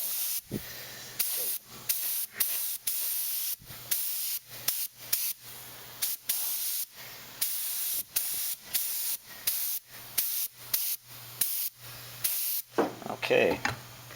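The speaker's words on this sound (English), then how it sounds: "spraying it kind of high pressure here, moving these parts around a little bit." An airbrush sprays paint onto 1/1400 scale model parts in short, sharp bursts of high-pressure hiss, on and off in an irregular rhythm, close and loud, with brief quiet gaps between each burst.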